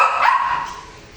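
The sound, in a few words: dogs barking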